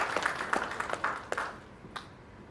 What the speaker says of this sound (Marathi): एकदा जोरदार टाळ्या होऊन जाऊ देत या संपूर्ण चित्रपटाच्या टीमसाठी.